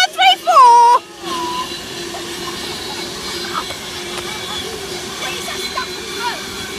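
A Virgin Trains service runs through Stafford station with a steady rolling rumble. A loud, tonal whistle or horn blast comes at the start, and faint voices talk over the passing train.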